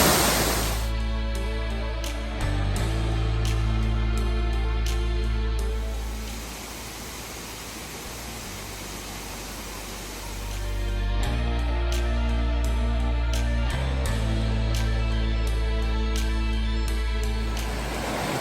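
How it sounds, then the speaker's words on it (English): Wide waterfall spanning a creek at Ricketts Glen State Park, a loud continuous roar of falling water that holds steady, dips briefly in the middle, then swells back, close and unbroken with no voices. "Still gonna photograph it because this is a really nice wide falls."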